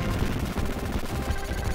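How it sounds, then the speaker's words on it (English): Explosions and rapid gunfire from the Contra video game blast continuously in a dense, loud barrage with no breaks and no talk over it. "the explosions just never stop"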